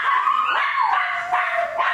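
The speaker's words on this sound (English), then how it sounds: "I think they've stopped barking" Dogs on a play date bark and yip in quick, close, loud bursts, several short calls packed into a moment with no talk over them.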